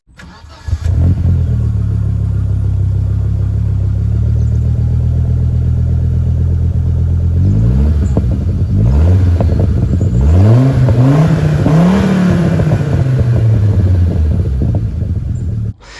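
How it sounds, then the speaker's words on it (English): A 1983 Audi Ur Quattro engine starts and settles into a steady, deep burble through a dual-tip Scorpion exhaust, then revs up and down several times, loud and close. "It's got a very nice sounding exhaust, dual tip Scorpion on there"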